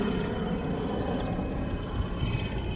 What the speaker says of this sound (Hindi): यहाँ पे आपको ये हेलीकॉप्टर वगैरह का आवाज़ हमेशा सुनाई देता है